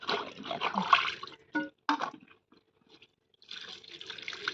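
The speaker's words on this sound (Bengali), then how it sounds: "এখন কলতলায় এসে আমগুলো খুব ভালো করে ধুয়ে নিচ্ছি।" Water splashing from a yard tap as cut mangoes are washed by hand, a close, uneven rush of liquid broken by short pauses and a brief near-silence before the flow resumes.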